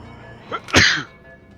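A single sharp sneeze, close and loud, a short inhale followed by the burst, over quiet game background.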